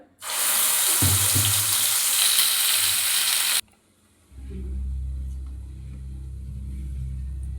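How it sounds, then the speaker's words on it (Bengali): Mashed pea paste hits hot oil in a pan for kachori filling, bursting into a loud, bright sizzle for about three seconds that drops off abruptly to a low, steady rumble. "তেলটা গরম হয়ে গেছে আমি এবার মটরশুঁটির পেস্টটা তেলে দিয়ে দিলাম"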